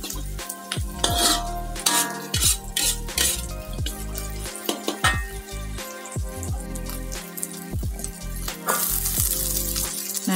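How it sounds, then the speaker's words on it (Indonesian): Oil sizzles steadily in a pan frying spices, tomato and bay leaves while a utensil scrapes and clatters against the metal, stirring in irregular bursts throughout. "Kita goreng sampai harum ya."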